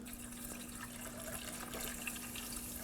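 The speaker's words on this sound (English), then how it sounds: "now we're ready to fill in the washer fluid reservoir" Washer fluid poured from a bottle into the windshield washer reservoir of a 2014-2020 Acura MDX, a steady soft liquid trickle with a faint constant hum beneath, no talking.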